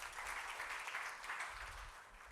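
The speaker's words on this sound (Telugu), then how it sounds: "పాస్టర్ మనోహర్ గారిని నేను ఆహ్వానిస్తున్నాను అందరూ చప్పట్లతో పాస్టర్ గారిని ఆహ్వానిద్దాం" Audience applause fills a Telugu church service as the congregation welcomes a pastor, a dense steady clapping that holds for a couple of seconds without talk.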